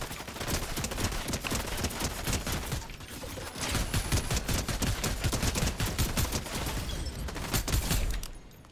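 An automated business turret firing in Fortnite Chapter 4 Season 4, a continuous dense stream of rapid shots rattling loudly for several seconds with a brief dip partway through, no voices.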